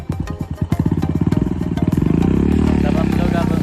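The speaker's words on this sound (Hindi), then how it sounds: "तो बाइक यहाँ पे स्टार्ट हो गया है, तो अब हम लोग निकलने वाले हैं।" A motorcycle engine fires up and settles into a steady running idle, its rapid, even thumping growing denser and louder after a few uneven beats, heard close by before a ride out to Hundru Falls.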